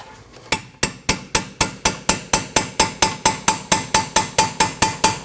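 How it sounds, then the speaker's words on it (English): Metal-on-metal hammer blows drive a punch to spread open the steering knuckle of a 2013-2019 Ford Escape, about twenty sharp, evenly spaced ringing strikes in a steady rhythm, close and loud with no talking. "you can take a punch and spread this part open"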